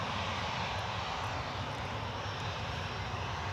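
A Jet2 airliner departing from Newcastle airport, a steady, broad engine roar that holds at a constant level, fairly distant with no talk over it.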